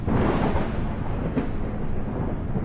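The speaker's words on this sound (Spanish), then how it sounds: "una recia tormenta se podía divisar a lo lejos en el horizonte" Thunder from a heavy storm approaching across the horizon at dusk, a continuous deep rumble that rolls on steadily for the whole stretch with one slightly louder swell near the middle, and no voices.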